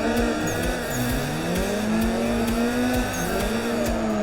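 A drift car in the racing sim Assetto Corsa slides with the e-brake pulled, its engine droning at a wavering pitch under continuous loud tire squeal, the revs rising and dipping through the slide.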